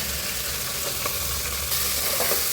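Onion, garlic, green chilli and tomato frying together in a pan for vegetable khichuri, a steady close sizzle with a few faint stirring clicks and no talk.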